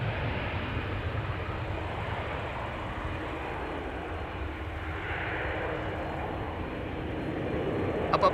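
A 15-year-old SAS CRJ long-range regional jet takes off from Amsterdam Schiphol bound for Copenhagen, heard up close as a loud, continuous broadband engine roar that swells slightly toward the end.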